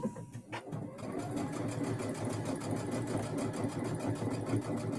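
A sewing machine stitches along the edge of a sweatshirt pocket, running in a steady, rapid mechanical whir with a fast needle rhythm, close and continuous, with no talking.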